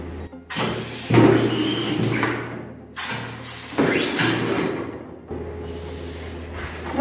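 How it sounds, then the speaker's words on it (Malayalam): A screen printing machine prints on material such as paper bags, non-woven bags or T-shirts, giving a series of mechanical thumps, sliding scrapes and clunks close by, with no voices. "ഈ പ്രിന്റിംഗ് മെഷീനിൽ പ്രിന്റ് ചെയ്താൽ എങ്ങനെ ഉണ്ടാവും നോക്കാൻ വേണ്ടിയിട്ട് കുറച്ച് മെറ്റീരിയൽസിലൊക്കെ നമ്മളൊന്ന് പ്രിന്റ് ചെയ്ത് കാണിച്ചു തരാം"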